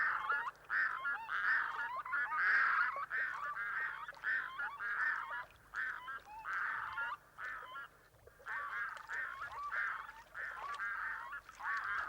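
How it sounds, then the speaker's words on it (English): Two red-throated loons call together in a rapid, repeated honking duet, loud and close, with short pauses between bursts. "With the threat over, the loons vocalize an all clear."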